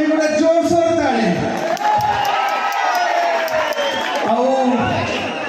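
At an outdoor jatra theatre show in Kashipur, Odisha, a large audience claps and cheers loudly. Shouts and whoops ring out over a steady wash of crowd noise for several seconds.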